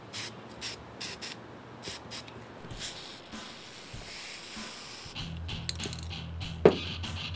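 Spray paint puts red accents on black Converse Chuck Taylor sneakers in short close hissing puffs, followed by a longer sustained hiss and a faint click.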